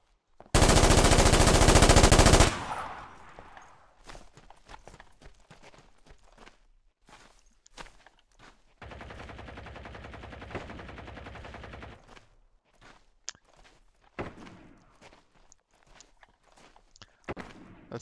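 Gunfire in the tactical shooter Ground Branch: an opening loud, sustained volley, then a scatter of sharp single shots and footsteps, a second long burst of fire midway, and more isolated shots afterward.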